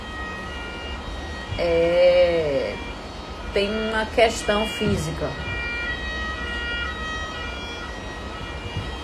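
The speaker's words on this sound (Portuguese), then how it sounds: "Tá tendo alguma coisa aí fora, bombeiro, ambulância." An ambulance or fire engine siren wails outside in rising and falling bursts, loud for a few seconds before fading, while a person talks indoors over it.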